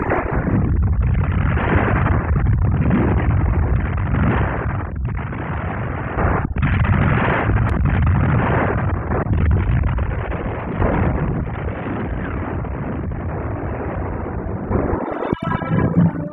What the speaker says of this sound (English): Heavy German artillery prevents the retreat of the enemy.